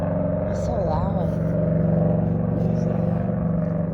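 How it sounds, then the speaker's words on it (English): A motorcycle passing at night along a nature center walk, its engine drone steady and fairly loud beneath close conversation throughout. "Motorcycle, I think."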